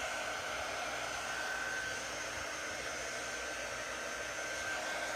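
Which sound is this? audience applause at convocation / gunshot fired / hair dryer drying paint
hair dryer drying paint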